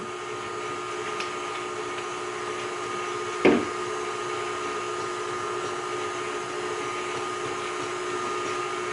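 Stand mixer whipping hot sugar syrup into a homemade marshmallow mixture, a steady whirring drone with a faint hum throughout and one brief knock partway through; no talking.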